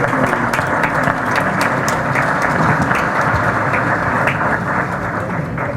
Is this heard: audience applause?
yes